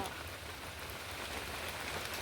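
Rain pouring outdoors in Kerala, a dense, steady patter of drops on surfaces filling the scene at a soft, even level without pauses.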